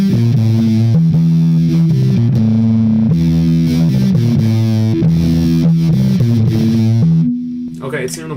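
A harsh, saturated tone runs through the LeCto distortion plugin by LePou Plugins, playing a chugging stepped riff with buzzy overtones, loud and continuous until it drops out near the end, followed by a brief voice.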